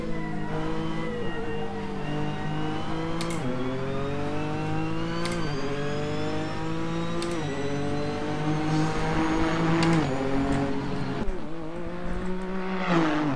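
A Ford Focus RS MK2 accelerating hard, its engine note rising steadily through repeated gear changes, each marked by a short dip before climbing again, loud and close for the whole stretch.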